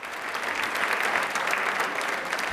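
A studio audience at a televised quiz show claps on cue, a steady, even wash of applause filling the whole short stretch without a voice over it.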